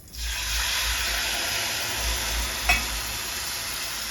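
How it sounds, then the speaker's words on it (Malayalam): Tomato, green chili and ginger paste sizzles steadily in hot oil in a pan for a green peas curry, a close, continuous hiss with a brief stir near the end and no talk. "ഇനി അരച്ച് വെച്ച ടൊമാറ്റോ മുളക് ഇഞ്ചി അത് ആ പേസ്റ്റ് ഒഴിച്ചു കൊടുക്കാം"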